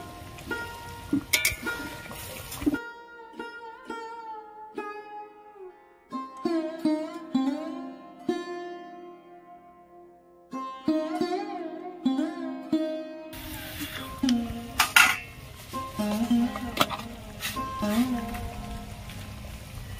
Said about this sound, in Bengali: গ্রেভি ফুটছে, ভেজে রাখা চিংড়িগুলো দিয়ে দেবো।